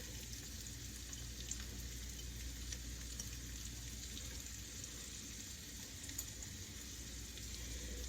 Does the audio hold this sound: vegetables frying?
yes